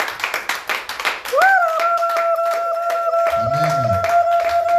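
A church congregation at an evangelistic service claps in rhythm with quick, loud, regular claps. The clapping then gives way to a sustained electronic tone and low sung or spoken voices.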